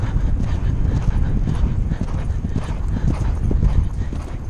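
Horse hooves clip-clop in a steady, busy rhythm with rustling and wind-like noise throughout, recorded close up while riding on a hunter trial course.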